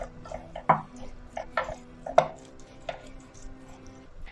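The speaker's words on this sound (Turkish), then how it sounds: "İç harcı için soğanımızı da küçük küçük doğruyorum" Onion is chopped into small pieces for a stuffing, with sharp knife strikes on a cutting board at an uneven pace, some louder than others, close and alone.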